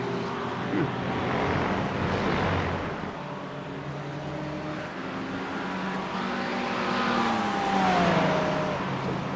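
GT3 race cars including Acura and McLaren lapping Mugello in a racing video game, with layered engine drones rising and falling in pitch as cars pass, under steady commentary.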